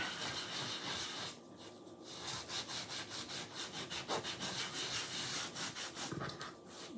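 Chalk paste rubbed off a Chalk Couture transfer screen makes a steady run of rhythmic scraping and rubbing strokes, close and fairly quiet, with no voices.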